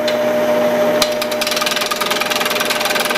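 A lathe tool roughs out the inside of a natural-edged wooden bowl, giving a steady close scraping and cutting noise with a rough, rhythmic chatter as chips fly off the spinning blank.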